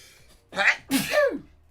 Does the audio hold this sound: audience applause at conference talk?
no